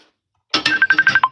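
A phone ringtone sounds indoors during a live cleaning session, a short burst followed by a steady run of repeated electronic tones in quick rhythm, close and fairly loud.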